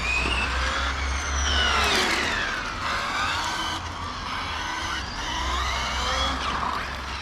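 A large-scale FG race truck with a brushless 530KV motor on 16S and a Flier Opto 300 whines loudly and continuously throughout, its high-pitched electric tone repeatedly rising and falling as it accelerates and backs off, close by.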